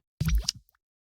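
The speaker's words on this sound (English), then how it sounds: "is like a pop sound." A designed pop sound effect for a fantasy film creature, a single close, liquid plop that bursts in, wobbles briefly with a downward bend, and cuts off into silence with a tiny trailing drip.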